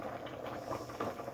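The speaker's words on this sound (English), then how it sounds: "You can hear it bubbling." A pot of homemade soup seasoned with dill bubbles steadily at a boil, a close, moderately loud continuous burble of popping bubbles.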